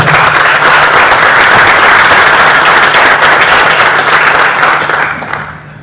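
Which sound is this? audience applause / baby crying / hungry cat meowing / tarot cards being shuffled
audience applause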